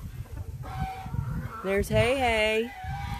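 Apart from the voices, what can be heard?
chickens and roosters at a farm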